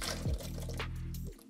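Ingredients tipped into a crock pot slow cooker for spicy refried beans with Hatch green chile, giving a brief close splash and tumble over a steady low hum, with no talk.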